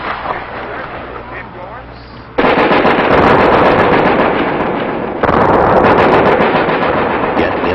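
Grenade explosions from a Marine recruit training exercise crash in as sustained, loud rumbling blasts, one long roar followed by a second powerful burst, with a voice calling commands faintly before the first.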